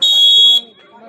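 Game timer buzzer at a 2v2 basketball game, one loud, steady electronic buzz lasting about half a second before cutting off into quiet court sound with faint voices.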